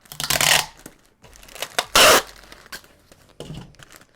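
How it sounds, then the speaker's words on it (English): Packing tape pulled off the roll in several loud ripping bursts while wrapping a plant package, with crinkling and handling noises between strips, close and otherwise quiet. "and then I just tape it up."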